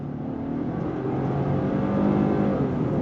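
A 2023 Genesis G90 luxury sedan with an 8-speed automatic accelerates hard on throttle, its engine note rising steadily and growing louder over three seconds of continuous, smooth pull with no talking.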